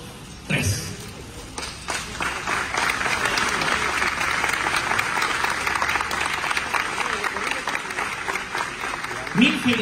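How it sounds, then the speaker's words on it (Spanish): Sustained crowd applause at a warehouse distribution center event, a dense steady roar of clapping lasting several seconds, with a few voices and cheers rising near the start and end. "aplausos"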